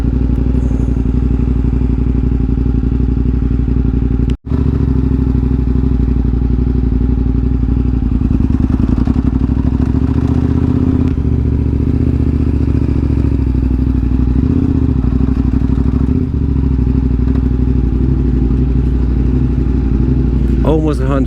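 A KTM 950 SMR motorcycle rides through the canyons of Angeles National Forest near Los Angeles, its engine droning steadily with wind rush and rumble, and a voice talking over it.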